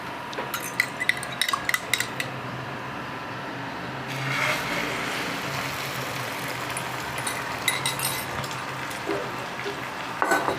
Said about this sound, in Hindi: इसी पैन में मैं 1 टेबलस्पून ऑयल डालूँगी। साथ में ये फेंटा हुआ अंडा,